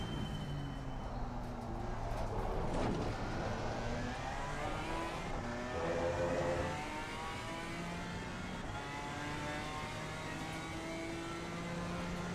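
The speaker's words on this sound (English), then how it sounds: "I just don't know if I could drive a full race with this exhaust sound." Front-engine race car in Assetto Corsa Competizione, its exhaust droning and rising steadily through revs, loud and close, with a brief surge of throttle midway and no talk over it.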